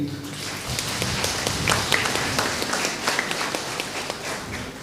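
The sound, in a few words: audience applause for parish council members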